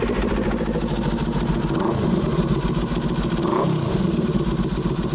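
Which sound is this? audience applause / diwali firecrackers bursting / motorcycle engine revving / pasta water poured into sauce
motorcycle engine revving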